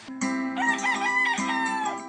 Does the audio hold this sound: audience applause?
no